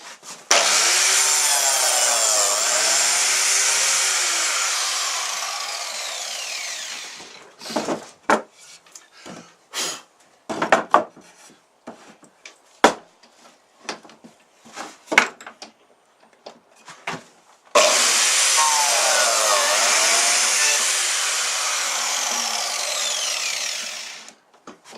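Grooves being cut into wood for a Warre beehive: a loud, steady power-tool whine for several seconds, then a stretch of scattered knocks and scrapes, then the whining cut resumes.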